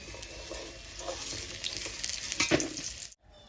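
Green banana pieces frying in hot oil in a pan sizzle steadily with a few scraping stirs, loud and close, then cut off abruptly near the end, leaving a quieter tail.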